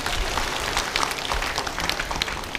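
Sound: audience applause in church

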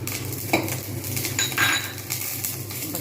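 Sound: dried red chillies stirred in hot oil in pan

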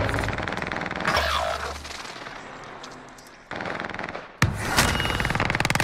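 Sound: gunfire in the video game Call of Duty

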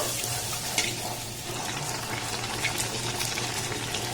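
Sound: luchi frying in oil, ripe palm puri recipe

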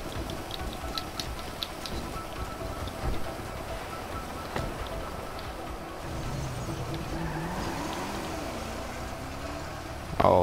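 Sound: car driving with tire squeal in video game GTA 5

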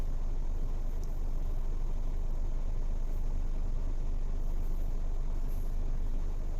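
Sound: cars and engines in heavy traffic

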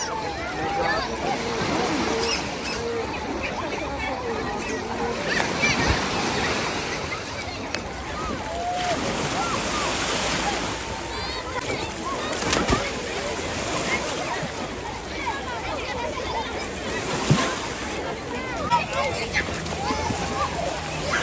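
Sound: sea waves on the Moroccan coast

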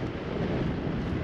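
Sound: wind in the Simpson Desert

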